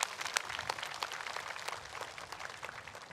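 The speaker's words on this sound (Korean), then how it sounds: "다시 한 번 더 큰 박수 부탁드립니다" Scattered audience clapping at a large Buddhist memorial ceremony for national peace and world peace, a brief burst of hand claps at moderate distance.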